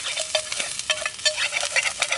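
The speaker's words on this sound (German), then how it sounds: "während ich hier am Brutzeln bin" Food sizzles and crackles steadily while frying in a pan over a Bushbox LF wood-burning camp stove, with scraping stirring strokes repeating through the sizzle, close and fairly loud with no voices.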